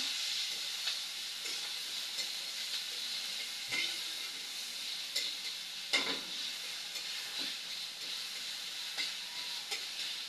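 Garlic, onion and tomato are sautéed together in a pan, giving a continuous soft sizzle with scattered stirring scrapes and a few sharper clinks, close and moderately quiet, with no talking.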